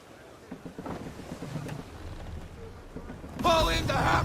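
A sailing ship under way in Assassin's Creed 3, with low wind and water rush building before a louder surge of sea spray and wind near the end, faint voice-like sounds underneath.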